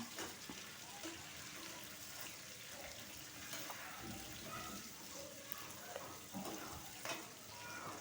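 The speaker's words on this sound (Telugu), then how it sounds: "ఇప్పుడు బఠానీలు, ఇది కూడా వేచుదాం." Peas fry in a pan for fried rice, giving a steady, dense sizzle with faint crackles throughout, close and continuous at low volume.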